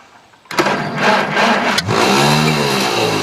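An old engine on a weak battery cranks after a quiet moment, then catches abruptly and runs loud and uneven, its revs wavering as it struggles to settle.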